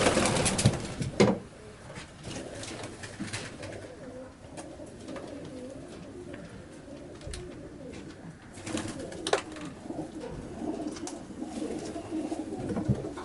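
Pigeons coo softly in a low, murmuring chorus, with occasional wing flutters and rustling close by, continuing throughout.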